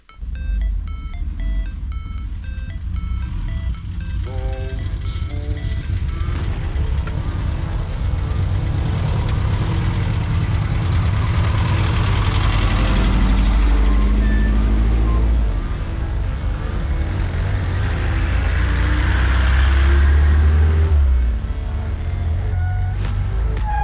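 LuAZ off-road vehicles idle on a dark evening, then rev and pull away; a high beeping tone sounds at the start, followed by engine drone that rises and swells as the vehicles set off.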